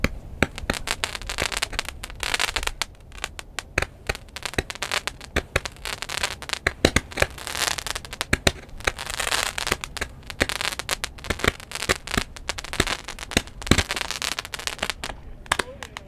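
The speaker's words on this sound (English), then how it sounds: "here's the holy crap moment where one of the fireworks kind of falls apart in his hands." Consumer fireworks going off during a Canada Day celebration in Toronto, with one device falling apart as it is handled: a dense, continuous barrage of crackling pops and sharp bangs, loud and close, running the whole time without talk.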